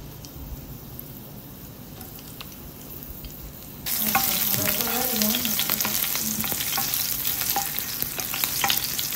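Green chillies and fenugreek seeds frying in oil for a spinach buttermilk bhaji, near silence until a loud sizzle bursts in partway through and keeps crackling and spitting steadily to the end.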